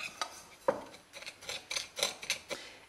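Brown sugar and salt for a pork spice rub being mixed in a bowl, heard as a series of light clinking and scraping taps of a utensil against the dish, fairly close and with no talking.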